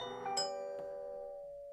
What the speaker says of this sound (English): Test your chime.